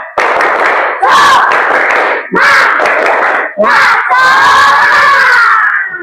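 A classroom of children performing a rhythmic spirit clapping cheer, loud shouted chants in short bursts punctuated by sharp unison claps, close and energetic.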